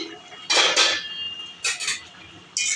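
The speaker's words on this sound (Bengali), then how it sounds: "চাপা খুলছি" A metal lid lifted off a cooking pan of fish curry, with two clattering clanks of metal on metal near the start and another pair moments later, then a short bright scrape, close and loud.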